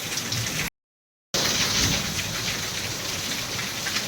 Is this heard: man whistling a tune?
no